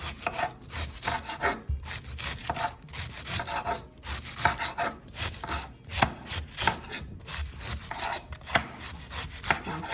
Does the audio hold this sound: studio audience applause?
no